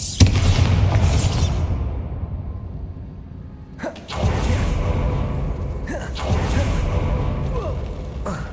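A Bombarda spell explosion in Hogwarts Legacy: one sharp burst opens with a bright crash that decays into a long rumbling tail, and two later impacts and debris follow, loud and close.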